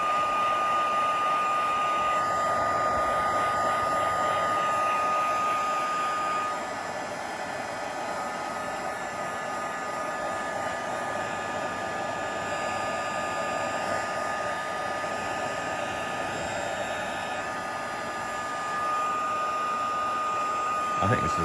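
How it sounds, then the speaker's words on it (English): Heat gun blowing a steady, even airy roar across Cosmic Shimmer Fluffy Snow paste, moderately loud and unbroken throughout with slight swells as it is moved. "just as long as you keep the heat gun moving, it kind of does its stuff"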